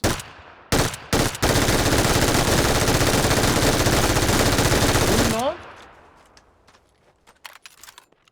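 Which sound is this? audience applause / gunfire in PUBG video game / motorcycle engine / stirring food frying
gunfire in PUBG video game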